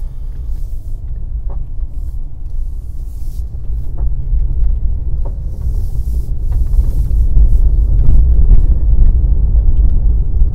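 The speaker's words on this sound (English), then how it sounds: "I'm just going to drive off gently and show you what the normal gear changeover is like." Porsche 992 with PDK gearbox pulling away gently in normal automatic mode, a steady low engine rumble heard from inside the cabin that swells slightly as the car picks up speed, with no talking.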